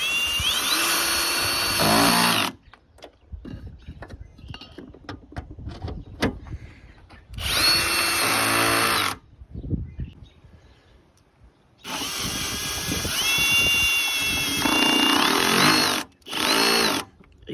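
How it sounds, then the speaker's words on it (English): A cordless drill driving a socket on bolts whirs in several short bursts, with clanks and clicks of metal tools between them, close by, while replacing a windshield washer fluid reservoir on a Chevy Silverado. "get a drill with a 1/4-inch extension adapter for the socket"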